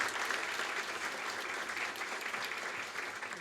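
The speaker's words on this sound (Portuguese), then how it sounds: "palmas para elas também," A steady wash of audience applause at the launch of a book of memoirs about a blacksmith, many hands clapping evenly and fairly softly throughout, with no voices breaking through.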